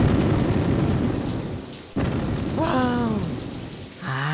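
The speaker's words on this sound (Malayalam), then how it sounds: "വാ, നല്ല മഴ." Heavy cartoon rainstorm: steady dense rain hiss with a sharp thunder crack near the middle, fairly loud throughout, with brief character vocal sounds rising over the downpour toward the end.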